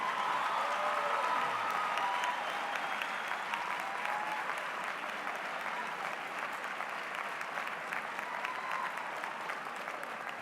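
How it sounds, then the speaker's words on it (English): Sustained applause from a large audience at a university graduation ceremony, steady and dense for the whole stretch, with no voices standing out above the clapping. "Give them another round of applause."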